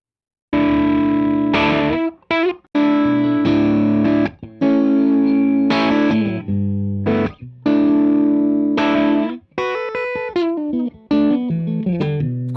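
Electric guitar through a Klon clean boost paired with a Marshall-style distortion pedal, loud crunchy overdriven chords in repeated strummed phrases with brief gaps, alone without talk.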